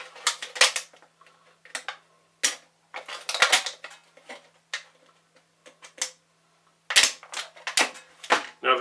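A utility knife cutting open a thin metal can, a run of sharp clicky, scraping bursts in irregular clusters with short gaps, close and dry, no talk.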